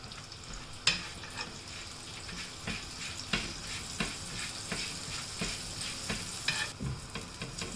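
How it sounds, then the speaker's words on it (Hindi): Frankie filling browns in butter or oil in a pan, giving a soft continuous sizzle with occasional sharper taps and scrapes from stirring, quiet and close. "बटर या फिर तेल कुछ भी लगा के इसको थोड़ा सा हम ब्राउन कर लेंगे।"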